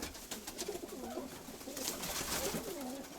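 Pigeons coo in soft, repeated throaty rolls at close range, with a faint bird chatter and light rustling behind them and no talk.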